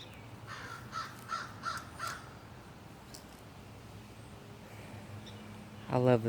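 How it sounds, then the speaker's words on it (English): Crows in a garden give several rough caws in a short series, moderately distant over a soft outdoor background, followed by a brief closer sound at the end. "I love the sound of the crows."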